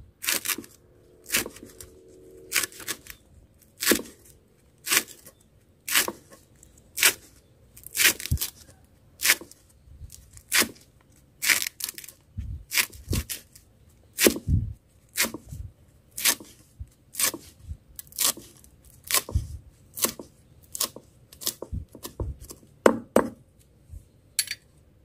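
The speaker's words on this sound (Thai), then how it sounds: "จากนั้นเราก็หั่นใบน้อยหนานะคะ" Custard apple leaves being finely chopped with a knife on a board, a steady run of sharp, evenly spaced cuts close by, with no talk.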